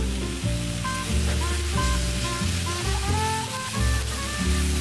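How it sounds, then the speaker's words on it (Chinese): Noodles stir-fried in a wrought-iron wok with yakisoba sauce give off a loud, steady sizzle and frying hiss, with scraping and tossing of the food throughout. "再加入炒面酱，快速咁样炒松佢。"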